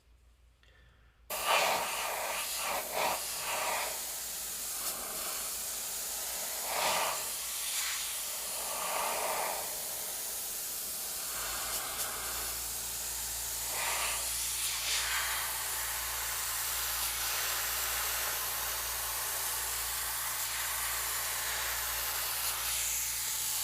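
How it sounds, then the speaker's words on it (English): Continuous airbrush hiss from custom painting a rose design, starting abruptly after a short quiet lead-in and holding steady and close, with brief breathy pauses and bursts as the spray is triggered. "Angle the airbrush away."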